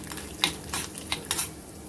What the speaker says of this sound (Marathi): थोडं जिरं घालायचं आहे आणि छान असं तांबूस रंगावर आपल्याला परतून घ्यायचंय